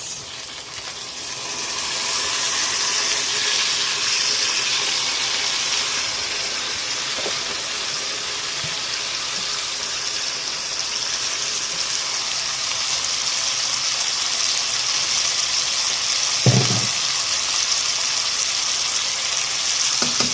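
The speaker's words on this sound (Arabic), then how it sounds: "هنزل الرز انا غسلاه كويس" Washed rice going into vermicelli frying in a pot: a continuous, even hiss and sizzle for the whole stretch, with one brief soft knock near the end and no voices.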